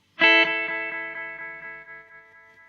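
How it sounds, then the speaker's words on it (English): A single guitar note through a cheap delay pedal, struck sharply and then repeating in evenly spaced echoes that fade gradually, with slight modulation wavering in the tail. "You hear that slight modulation towards the tail repeats."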